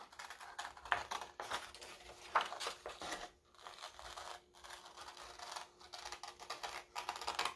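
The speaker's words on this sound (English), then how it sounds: "I'm trying my best to keep my scissors on that circle line." Scissors cut around a circle line on a sheet of paper, giving faint, close, continuous crisp snipping and rustling in short repeated bursts with brief pauses, with no talking.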